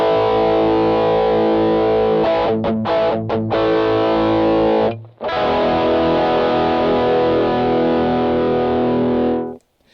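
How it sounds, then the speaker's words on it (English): Heavily distorted electric guitar chords through a Rock-Box pedal ring out loud and thick, with a few quick choppy stops before a brief gap and another long sustained chord. "So let's compare that with the full-on distortion."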